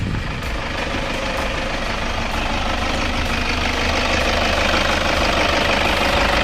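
A 2008 Toyota Fortuner 3.0V 4x4 automatic with a diesel engine idles steadily, a constant low rumble with mechanical clatter and knock, heard close and unbroken with no talking.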